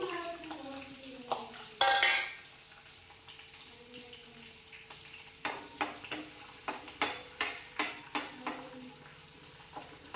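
Ginger and garlic fry in hot oil, a low background sizzle, while a utensil scrapes and clacks against the pan in a quick rhythmic run of stirring strokes after an earlier louder clatter.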